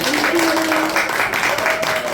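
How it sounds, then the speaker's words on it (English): Audience applause at a yoga studio gathering, a steady wash of clapping lasting a couple of seconds, mixed with a thin tonal sound and some background voices. "Let's give her a round of applause."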